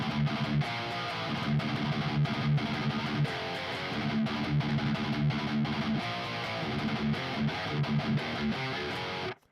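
Softly picked electric guitar riff in a thrash and pop-punk style, with a steady rhythmic chug of muted chords and ringing notes played alone at moderate volume before cutting off abruptly.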